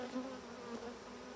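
Honey bees buzz at an opened hive, a soft continuous hum with slight wavering pitch, faint and alone.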